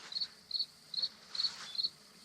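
Crickets chirp in short, evenly spaced high-pitched trills, about five bursts in a couple of seconds, faint against a quiet night background.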